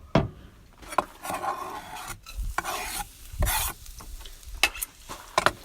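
Ginger, garlic and shallot sizzling in hot oil in a pan, stirred and scraped, with bursts of crackle between spatula strokes.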